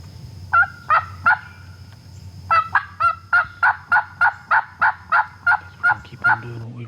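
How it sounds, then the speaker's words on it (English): A big wild Osceola turkey gobbler gobbling in the woods on public land, with repeated sharp rattling gobbles, a short group of three and then a longer run of evenly spaced calls, clear and fairly close. "It's a big old gobbler."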